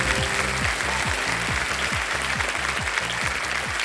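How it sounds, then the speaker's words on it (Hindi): A game show studio audience applauds steadily, dense continuous clapping throughout, with a rhythmic background music beat pulsing underneath. "पहले से ही ताली बज गई है।"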